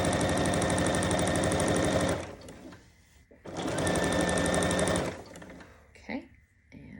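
A sewing machine stitching a seam on a half apron, running in two steady, rapid, close bursts of about two and three seconds each, with quiet handling and a voice in between.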